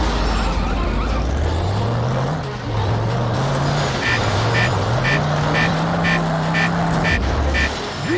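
A car drives in The Simpsons Road Rage video game, its engine drone rising and falling as it speeds along, with a rapid series of short honks partway through, loud and close over game background sound.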